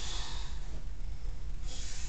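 A man snores loudly, producing one rough, breathy snort close by that swells, dips and rises again.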